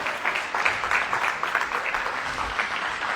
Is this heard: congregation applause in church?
yes